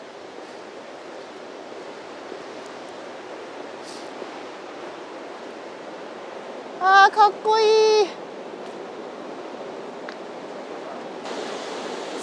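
Wind-whipped sea with whitecaps crashing along the rocky Izu coast near Manazuru in January, a constant roar of surf with a brief voice speaking over it partway through.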